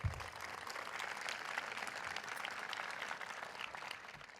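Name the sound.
audience applause for Susan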